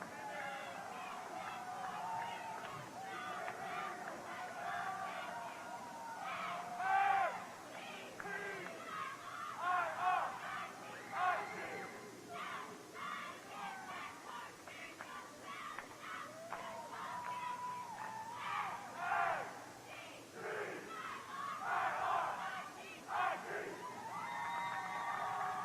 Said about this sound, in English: This crowd has erupted after his slam.